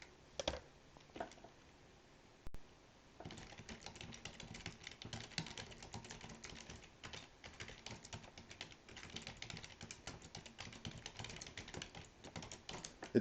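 Computer keyboard typing runs steadily for about ten seconds, a dense stream of quick light keystrokes close to the mic, after a few scattered taps at the start and no talking.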